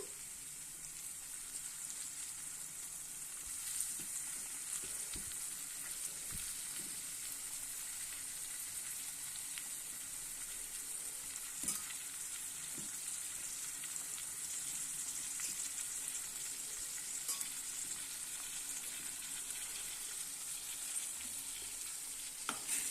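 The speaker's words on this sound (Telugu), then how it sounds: "ఇక రొయ్యలు అయితే బాగా వేగినాయి" Dried prawns fry in oil with onions and green chillies, giving a soft, steady sizzle that lasts a long while. Occasional light clicks come from the spatula moving through the pan.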